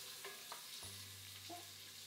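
Chopped onion frying with bacon in a pan for a bean stew, a faint soft sizzle with a few light stirring scrapes and a low steady hum underneath, no talking.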